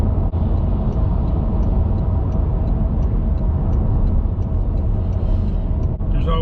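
A car drives along a road on the way to work, heard from inside as a steady low engine and road rumble with faint regular ticking over the top and a brief clunk near the end.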